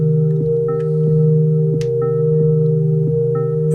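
A heavily resonant synthesizer filter is pushed hard into a delay during a live set with no sequencers, giving loud sustained tones with repeating pitch sweeps and echoing chirps that recur at a steady rhythm.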